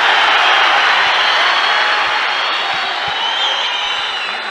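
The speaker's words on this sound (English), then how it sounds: "Listen to the crowd here." Crowd at an ACA 130 MMA event roaring after a knockout, a dense, loud, sustained wash of cheering that holds steady then eases slightly over several seconds.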